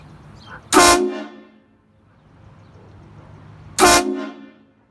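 Two very loud blasts from a HornBlasters Shocker XL train horn mounted on a truck, each about a quarter second long and roughly three seconds apart, with quiet ambient noise between them.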